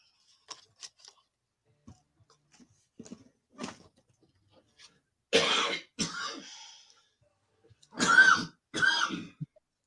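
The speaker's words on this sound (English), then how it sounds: "We both have a bad cough." Several harsh coughs from two people with bad coughs after COVID break a mostly quiet room, with small clicks and taps between them, the loudest coughs coming in pairs.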